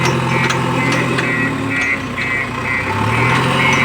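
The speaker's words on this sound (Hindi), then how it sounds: "फिर ट्रक आगे बढ़ जाता है" A truck pulls forward with a steady, loud engine rumble close by. Faint rhythmic clanks and squeaks repeat over it, and there is no clear talk.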